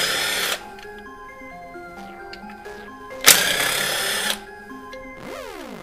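A power tool whirs in short bursts while removing 10mm bolts in a Mitsubishi Evo X engine bay, with steady whining tones, a louder high burst midway and a rising spin-up at the end.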